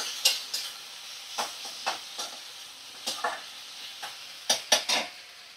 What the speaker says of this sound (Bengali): তো ফ্লেমটা একটু লো ফ্লেমে করে ভালো করে মশলা কষিয়ে নেব